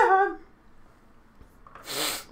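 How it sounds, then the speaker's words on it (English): A person sneezes once, a sharp burst of breathy noise near the end, following a brief voiced sound and a quiet pause. "I sneeze sometimes like that"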